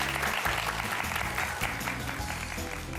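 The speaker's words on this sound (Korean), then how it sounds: "다시 한번 박수 보내드릴까요?" Audience applause after a lecture on retirement planning and real estate at a Korean talk show taping, a dense steady round of clapping from a studio crowd that fills the whole stretch at even loudness.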